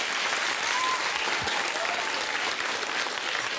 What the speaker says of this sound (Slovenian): En aplavz za njih.